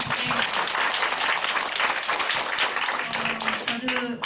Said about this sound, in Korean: 네, 박수 한번 쳐볼까요?